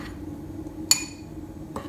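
Dry flour, cornstarch, baking soda and salt being stirred in a bowl give soft scraping with a sharp utensil clink against the bowl, then a second fainter tap, close and quiet.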